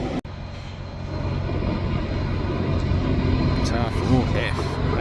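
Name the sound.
aircraft flying past at Adelaide Parafield airport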